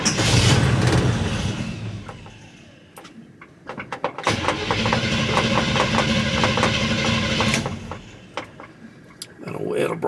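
Vehicle engine cranking and catching on a chilly day, turning over roughly before settling into a loud, steady running rumble close by, with a person talking over parts of it.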